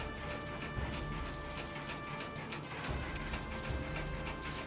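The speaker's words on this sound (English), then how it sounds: "Thread the rod out to increase the number of net layers." The net wrap adjustment rod on a 2020 Krone Bellima 130D baler is threaded, giving a rapid continuous ratcheting clicking of metal gearing, close and fairly loud, with no speech.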